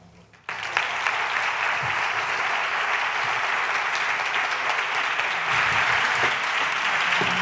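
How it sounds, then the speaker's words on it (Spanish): After a short quiet moment, an audience at a coaching marathon event in Las Rozas bursts into full applause that holds steady and dense for several seconds, many hands clapping together. "Espera, que recibe el aplauso."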